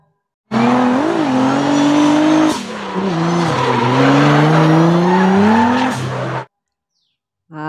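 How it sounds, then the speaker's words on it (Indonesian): A toy race car gives off a loud electronic engine sound with rising and falling revving tones and squeal-like sweeps. It plays for about six seconds, close and loud, then cuts out. "Ada mobil balap"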